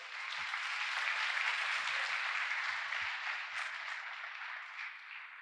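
An audience at a youth apprentice event applauds steadily for several seconds, dense clapping from a crowd that fades slightly toward the end.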